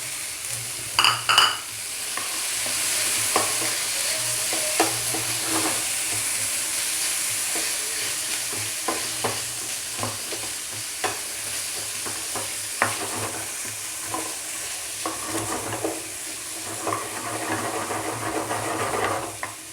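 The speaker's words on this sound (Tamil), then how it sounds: "மல்லித்தூள், கரம் மசாலா கொஞ்சம் சாத்தே பண்ணிக்கோங்க." Green peas, carrot and beans sauté with onion in a pan, giving a continuous soft sizzle broken by frequent scraping stirs and clinks of a spoon, close and steady throughout.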